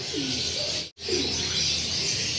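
Pigeons of a long-kept breeding bloodline coo softly in a loft, with low rolling coos heard near and repeated twice over a steady airy background hiss, briefly cut by a short silent gap.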